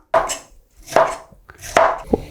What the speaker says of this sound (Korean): 빨간 파프리카도 50개를 준비를 했습니다. 이것도 채를 썰어주세요.